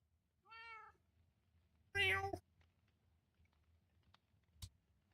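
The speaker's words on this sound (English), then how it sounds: "plastic cat from artifacts" A plastic cat artifact in Minecraft lets out two distinct meows against near silence, a short clean one early and a louder, harsher one about a second later, followed by a faint click.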